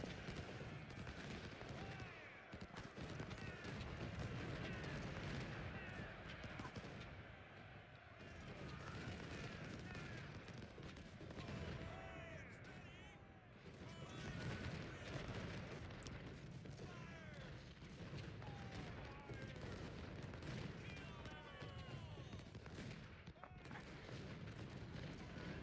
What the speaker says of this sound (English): such a massive bombardment of cannons